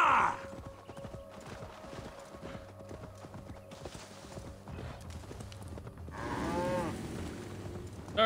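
Cows moo in Assassin's Creed Valhalla amid steady horse hoof clip-clops, a low drawn-out moo rising near the end over the rhythmic hooves.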